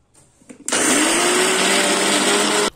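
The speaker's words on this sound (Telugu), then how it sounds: "అన్ని చల్లకయ్యాక మిక్సీలో వేసుకున్నామండి" A kitchen mixer grinder whirs loudly and steadily as it grinds roasted peanuts with salt into chutney, starting after a couple of brief bumps and running for about two seconds before cutting off.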